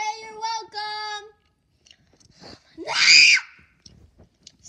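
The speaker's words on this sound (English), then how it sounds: "Sorry about that ferocious scream." A loud, ferocious scream from a child in a chaotic household, a strained high wail lasting about a second after some earlier shrill cries, with quiet talk and small noises around it.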